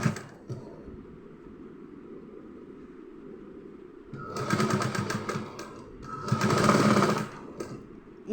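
A domestic sewing machine stitching teddy bear seams runs in two loud bursts of rapid mechanical whirring, separated by quieter handling sounds, with no talk over it.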